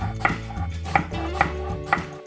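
A knife chops pear into thick pieces on a cutting board for dongchimi, Korean winter radish water kimchi: four firm, evenly spaced thuds close to the mic over a steady low hum.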